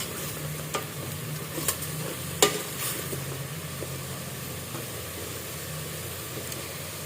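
Bat meat stir-fried with spices in a pan, a constant close sizzle with scattered clacks and scrapes from the stirring utensil, no voices.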